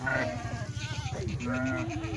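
Kathiawari sheep bleat close by, several repeated wavering calls overlapping one another in a loud, continuous flock chorus.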